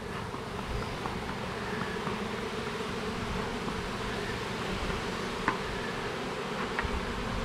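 A dense swarm of bees drones around a hive outdoors, a steady close buzzing with individual insects whining past now and then, no voices, just the continuous hum.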